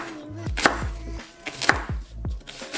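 A knife chops green onion (cive) on a board, with sharp, loud, close thuds in an uneven rhythm of single and paired strikes, heard alone with no talking, while a Senegalese thieb poulet is being prepared.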